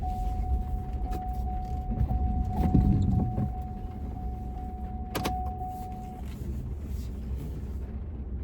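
A vehicle backs slowly into a campsite on a rainy day, with a low engine rumble, a steady reversing tone and a couple of sharp knocks.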